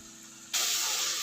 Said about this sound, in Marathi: मसाला देखील तेलामध्ये चांगला मिक्स करून घेऊ